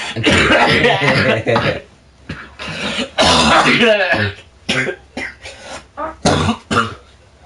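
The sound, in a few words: cough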